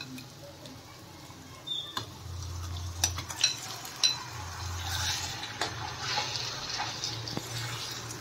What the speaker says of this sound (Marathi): त्यानंतर आता आपल्याला चिकन टाकून घ्यायचं आहे।